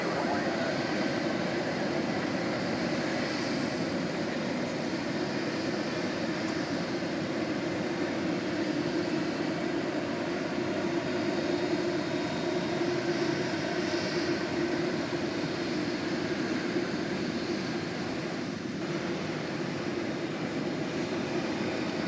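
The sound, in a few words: jet airliner taking off from runway 18 left at DFW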